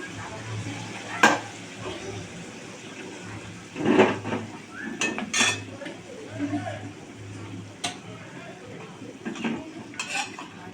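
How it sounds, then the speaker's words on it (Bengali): Sautéed fish head is tipped from a pan into simmering mung dal, giving a few sharp metal clanks and scrapes of a spoon against the pot over a low bubbling, hissing background. "মাছের মাথাটা আমার কষা হয়ে গেছে, এবার আমি ডালের মধ্যে এটা ঢেলে দেবো।"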